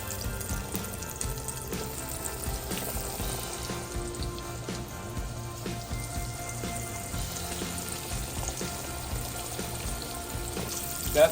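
Mozzarella cheese sticks frying in hot oil give a steady, busy sizzle and crackle that holds through the whole stretch at an even, close level, with no talking over it.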